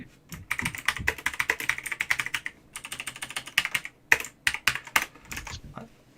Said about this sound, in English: typing in the Discord chat